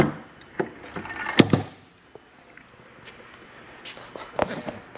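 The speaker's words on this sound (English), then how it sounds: "make sure you lock and deadbolt this exterior door and lift and turn your handle" The exterior door of a 2021 Pinnacle 36SSWS RV is locked and deadbolted and its handle lifted and turned, giving several sharp metallic clicks and wooden clunks spread over a few seconds, close up and otherwise quiet.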